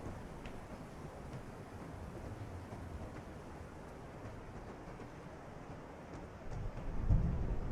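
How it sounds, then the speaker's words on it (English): A low, steady rumble of heavy rain and thunderstorm noise throughout, swelling into a louder deep roll of thunder near the end. "No man should be stuck outside in a storm like this."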